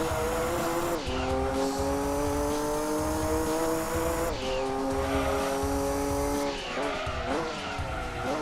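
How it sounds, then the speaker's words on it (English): A Lister race car in the video game Gran Turismo 2 drives around a track, its engine whining loudly and continuously with gear shifts and tyre squeal. "There's the Lister making its way around."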